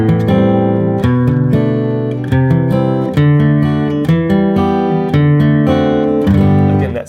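Acoustic guitar strumming a chord progression in G, a variation without the seventh in the bass, with steady, bright, ringing chords played close and loud, and no voices.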